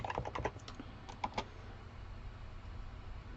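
Keys clatter on a computer keyboard as a folder name is typed, a quick cluster of soft clicks at the start and a couple more taps a moment later, faint and close over a quiet hum.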